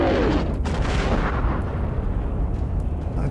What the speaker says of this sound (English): I think we're going to do the old grenade maneuver.